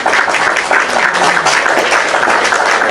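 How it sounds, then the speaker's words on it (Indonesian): Audience applause, a loud, dense burst of many hands clapping continuously at an even intensity from start to finish, with no talk over it. "tepuk tangan"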